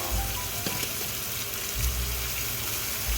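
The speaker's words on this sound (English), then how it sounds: "just sear it for 6 minutes on each side" Pork chops for maple-balsamic pork chops searing in a hot pan, a steady broadband sizzle with low bursts of crackle throughout, close and fairly quiet, no talking.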